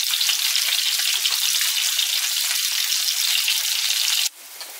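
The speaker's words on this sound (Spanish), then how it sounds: "he puesto una sartén con aceite y vamos a pochar la cebolla y las dos clases de pimientos" Onion and two kinds of peppers frying in oil in a pan, a loud, dense, steady sizzle close up that drops abruptly to a quieter crackle near the end.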